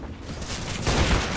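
Gunfire in the video game CS:GO: a short flurry of muffled, rumbling shots that builds in loudness toward the end.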